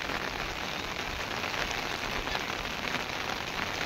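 Steady rain falls during the rainy season, a dense even hiss of drops striking surfaces that holds at constant loudness throughout, with no voices.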